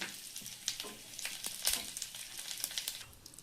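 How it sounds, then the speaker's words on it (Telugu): Curry leaves fry with urad dal and chana dal in a small pan for a coconut chutney tempering, giving a close, crackly sizzle with scattered sharp pops and no talking. "ఇప్పుడు ఇందులోకి కరివేపాకు వేసుకొని ఫ్రై చేసుకోవాలి."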